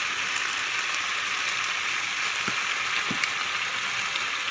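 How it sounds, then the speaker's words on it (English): Stir-fry sautéing in a pan with pepper and onion powder, a steady broadband sizzle holding evenly throughout, with a couple of faint utensil scrapes. "I'm just going to saute this for a couple minutes"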